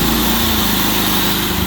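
A small propane-fuelled portable generator engine running loud and close under the load of a power drill, a dense, steady buzzing drone with a throbbing low pulse throughout.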